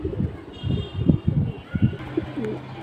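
Babu pigeons, small short-beaked birds, coo close by in a series of low, throaty rolling calls with short pauses between them, over faint background noise.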